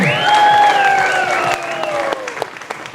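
An audience at a gourmet chefs' event at sea in Penang applauds in a steady, loud wash of clapping, with a sustained tonal voice or melody riding over it before the clapping thins toward the end.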